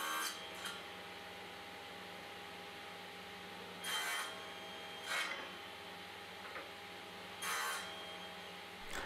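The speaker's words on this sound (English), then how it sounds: "then I can cut them all to the same length using a stop block" Handsaw strokes on wood as pieces are cut to matching length against a stop block, heard as a few short raspy bursts, fairly quiet, with pauses and low background hiss between them.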